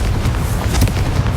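A Confringo blasting spell explodes in Hogwarts Legacy, a single loud, close, booming burst with a rumbling low end.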